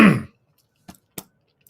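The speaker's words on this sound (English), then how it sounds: "I have to start with this tickly cough" A single tickly cough or throat-clear bursts out loud and close at the start, followed by a few faint short throat noises after a brief pause.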